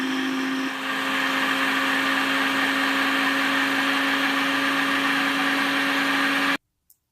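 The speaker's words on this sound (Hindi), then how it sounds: "ब्लेंडर चलाएंगे" Kitchen blender running continuously while making homemade mayonnaise, a loud steady motor whine with a slight pitch change near the start, then cutting off abruptly followed by a single click.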